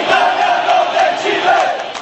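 Chilean Audax Italiano football supporters chanting together in a stadium, a loud, steady wall of massed voices with rhythmic swells and no clear talk over it.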